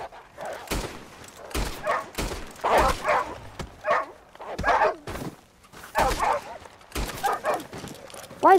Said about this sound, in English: Why is every dog in this game so stupid?